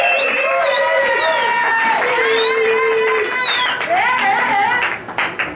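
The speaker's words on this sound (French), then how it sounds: "Sous vos acclamations." A church congregation cheers and applauds at a worship gathering, loud and close, with shouts and whoops riding over steady clapping and a singing or calling voice weaving through, fading near the end.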